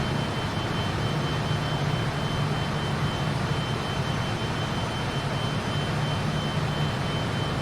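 Steady, loud broadband roar of a Fokker F28 jet airliner in flight, an unbroken engine and airflow drone with no talking over it.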